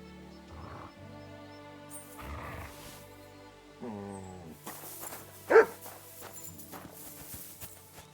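A dog barks a few times in Kingdom Come: Deliverance 2, short separate yelps against a quiet backdrop of game music and movement, with one sharp louder bark in the middle.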